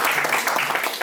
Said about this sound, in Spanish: Este aplauso también es extensible para ustedes